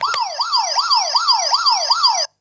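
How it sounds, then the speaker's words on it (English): A quiz game buzzer blares a rapid warbling siren-like tone, rising and falling about five times, loud and close, then stopping abruptly. "This is my buzzer, so when I buzz in,"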